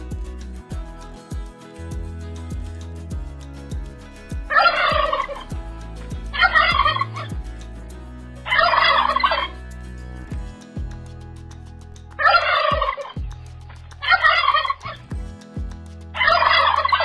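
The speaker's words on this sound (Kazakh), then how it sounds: "Күрке тауық." A turkey gobbles six times in loud, close bursts spaced a couple of seconds apart, over a steady rhythmic musical beat.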